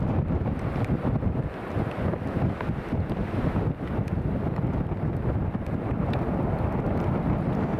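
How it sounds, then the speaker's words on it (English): Strong crosswind of 17 knots gusting 33 at Newcastle International Airport buffets the microphone in a continuous, gusty roar with rough surges, no voices present. "Wind here is currently 200 degrees, 17 knots, gusting 33."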